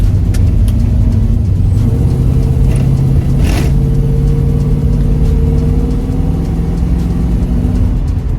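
A 1972 AMC Javelin SST with a 360 V8 and automatic transmission accelerates under part throttle, a loud, close, deep engine rumble rising steadily in pitch with a sustained drone and no talk.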